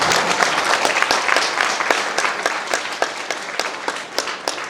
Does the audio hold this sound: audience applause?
yes